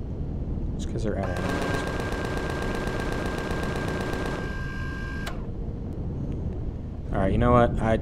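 Ship turrets in the video game Empyrion fire a rapid mechanical burst for a few seconds over a steady background drone, and a voice briefly speaks near the end.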